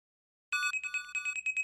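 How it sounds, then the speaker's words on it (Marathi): After half a second of silence, a mobile phone starts ringing: a bright electronic ringtone of rapid, evenly pulsed melodic beeps, fairly close and alone. "अरे तुम्ही सुमितचा फोन."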